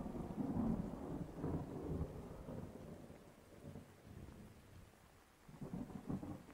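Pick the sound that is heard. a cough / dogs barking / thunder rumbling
thunder rumbling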